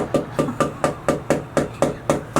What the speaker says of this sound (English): that's her fork hitting the plate, and she's constantly just moving food around